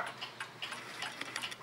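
A 1950s Mauthe mantel clock ticks steadily, with evenly spaced crisp ticks close up over a faint background hiss.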